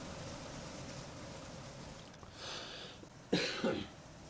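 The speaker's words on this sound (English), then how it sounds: "Sorry about the cough, guys." A race commentator at Eldora Speedway coughs during a Big Block Modified broadcast, two or three harsh, close bursts near the end after quiet background noise, with no talk in between.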